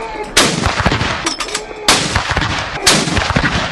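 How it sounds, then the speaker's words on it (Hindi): Cannon fire of a 21-gun salute, three booming blasts roughly 1.5 seconds apart, each loud and close with a long rumbling tail, no talking. "संजय सर को इक्कीस तोपों की सलामी तो बनती है भाई"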